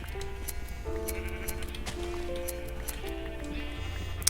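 Minecraft sheep bleat as they are sheared in quick succession, short repeated bleats and soft squishing over calm background music.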